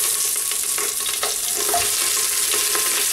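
Garlic frying in a pan until golden, giving a steady, close sizzle with soft crackles and a few light clicks of stirring throughout, with no voices.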